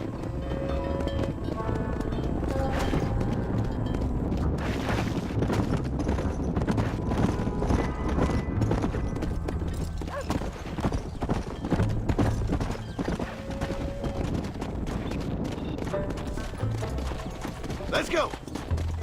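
Horse hooves clip-clop steadily through Red Dead Redemption gameplay, a continuous rhythmic trot under a dense bed of game music, ambience and occasional whinnies, with dialogue voices at moments.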